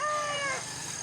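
Talisayon rooster, a big-sized bird just over a year old, gives a single crowing call that trails off, fairly clear and near with a little background hiss.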